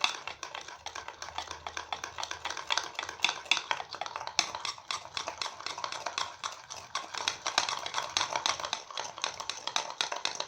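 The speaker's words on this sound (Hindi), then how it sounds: "मैं चम्मच के साथ बीट कर रही हूँ" A metal spoon beats coffee mixture in a cup with rapid, steady scraping clinks, close and loud, continuing without a break for the whole stretch and with no voices.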